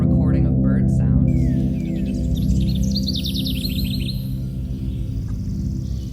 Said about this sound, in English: a recording of bird sounds